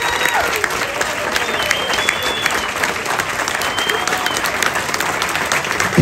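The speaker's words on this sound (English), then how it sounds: "How about a round of applause for the Park West Museum and Albert and Vincent Scaglione." Audience at a VIP art auction and museum day event applauds loudly and continuously, a dense wash of clapping with faint voices and cheers mixed in.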